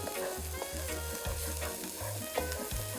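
Garlic sizzles steadily in a hot pan while a utensil scrapes and stirs in a quick rhythmic pattern, close and continuous with no talking.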